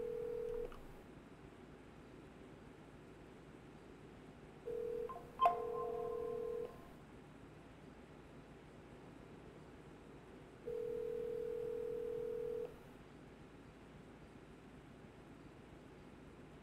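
In GTA V, a phone dials with a quick burst of keypad tones, then rings out in long, steady tones separated by pauses. The sound is clean and alone, with no talking.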